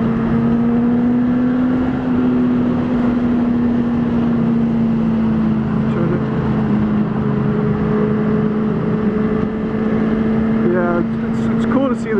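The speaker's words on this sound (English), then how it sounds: "It's cool to see the BMW S1000 in action, because that's one of the bikes I'm considering possibly getting next." A BMW S1000 motorcycle rides past at speed, its engine a loud, sustained droning tone that holds steady with slight pitch shifts, heavy wind rush underneath, and a brief rising rev near the end.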